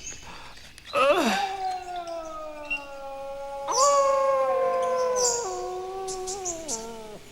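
Wild dogs in the Australian outback let out long, wavering howls that overlap and slide in pitch, one starting near one second and a louder chorus joining near four seconds, close and clear.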